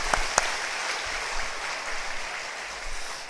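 A congregation at a Korean church revival meeting in Tongyeong claps in a sustained, even burst of applause that fills the hall at a moderate distance.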